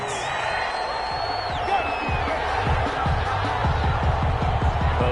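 Crowd in an American football video game reacts to a penalty with a sustained, loud roar of disapproval, broad crowd noise filling the scene throughout.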